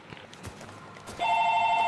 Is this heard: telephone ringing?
yes